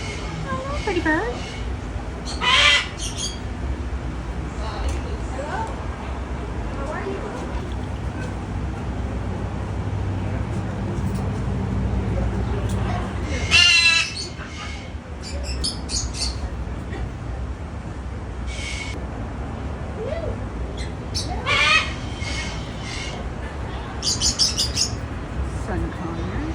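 Parrots at the Arizona State Fair, including macaws, a sun conure, an Amazon parrot and a cockatoo, give a few loud, scattered squawks and chirps over a steady crowd-and-traffic murmur.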